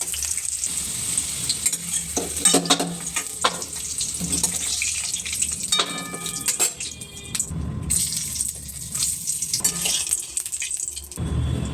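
Potatoes fry until reddish-brown, sizzling and crackling in a pan with intermittent scraping stirs and clatter, the frying hiss rising and falling throughout.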